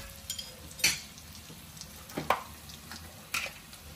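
Mutton fries in oil in a pan with a quiet, crackling sizzle. A few sharp spatula scrapes and taps stand out at intervals against a faint background.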